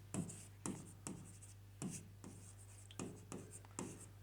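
Pen writing on paper during a Class 10 geometry lesson on circle theorems, giving repeated scratchy strokes in short bursts roughly every half second, close and fairly quiet over a steady low electrical hum.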